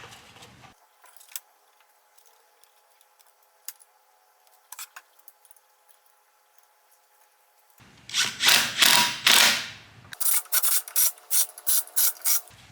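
Ratchet on the exhaust manifold bolts of a 6.0 Ford Power Stroke diesel: near-silent pause with faint ticks, then a loud burst of quick clicking strokes followed by shorter separate bursts of clicks, close up.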